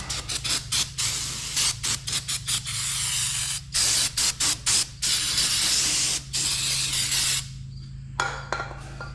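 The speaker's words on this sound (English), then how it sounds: "let's spray her down" Repeated short bursts of aerosol cleaner hissing onto an MM 4 Star tractor engine with oil leaks, close and loud, in quick irregular pulses over a steady low mechanical hum, ending in a few faint clicks.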